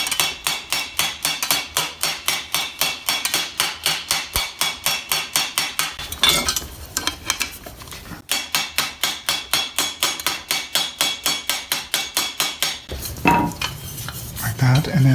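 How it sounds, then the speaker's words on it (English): Brass rivets, 1/8 inch, are hammered onto a metal armor vambrace: rapid, evenly spaced sharp metallic blows in long bursts, broken by brief pauses and some lighter handling clatter, loud and close. "I just got to finish tightening it up. I'm using brass rivets."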